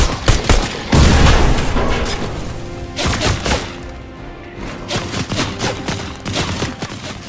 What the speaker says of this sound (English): Taking it over to the Stark robots, shot at it, let it explode.